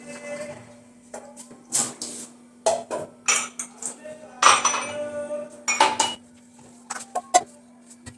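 Freshly washed dishes and cutlery clatter and clink in a home kitchen as they are set down, with irregular sharp metallic knocks and rattles, some loud and close, over a faint steady hum.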